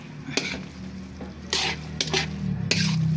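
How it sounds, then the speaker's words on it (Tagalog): A utensil stirs palabok sauce in a pan, making wet scraping and squishing strokes in several separate bursts over a gentle sizzle, close and clear, with no talking. "halu-haluin natin yan"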